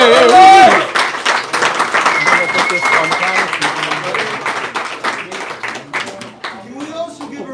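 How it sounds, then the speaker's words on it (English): Party guests at a 70th birthday celebration applaud George, steady dense clapping with cheers running the whole stretch, loud and close, while a voice talks over the top. "Give it up for George."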